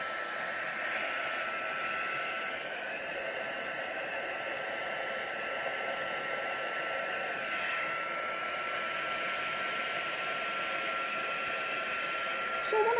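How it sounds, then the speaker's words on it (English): A small handheld heat tool blows a steady, breathy whoosh over geode resin coasters, continuous and fairly close, with a slight shift in tone midway and no talking. "let's get my little heat tool. I'm just going to blow that as well"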